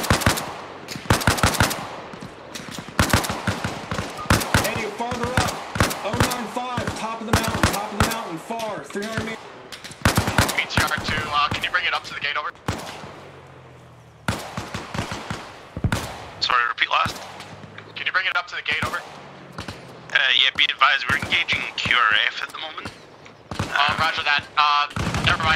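Automatic gunfire from a machine gun firing tracers in the military game ArmA Reforger, with loud repeated bursts and single shots spread through the clip and voices talking over the shooting.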